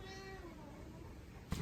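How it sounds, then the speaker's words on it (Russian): A stray cat at a villa in Bali lets out a drawn-out, wavering meow up close, fading into a quiet outdoor hum, then a brief rustling thump at the end. "к нам пришла очередная кошка"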